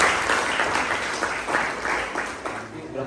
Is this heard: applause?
yes